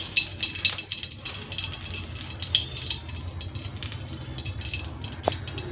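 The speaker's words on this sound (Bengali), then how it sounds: "তেলটা গরম হয়ে গেলে জিরে শুকনো লঙ্কা পোড়ানো দেবো" Cumin seeds and a dried red chili temper in a little hot oil in a home kitchen pan, giving a continuous crackling sizzle with fluttering bursts and a low hum beneath, close and fairly loud.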